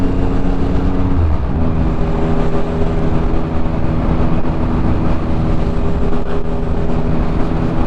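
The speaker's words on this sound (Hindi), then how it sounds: "पीछे शायद पोर्श आ रही है काफ़ी तेज़ी से।" A Porsche closes in fast behind a Triumph Speed Triple 1050 motorcycle on a UK road, its engine tone shifting under the bike's own steady engine hum and heavy wind rush, loud and constant.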